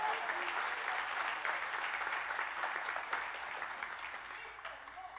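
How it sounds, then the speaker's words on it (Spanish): A church congregation claps together in a sustained, fairly distant wash of applause that slowly fades over several seconds. "O dale un aplauso a Dios si lo recibe."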